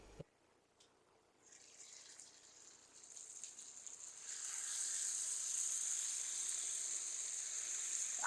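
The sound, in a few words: vegetables (potatoes, peas, tomatoes) frying in a pan for fish curry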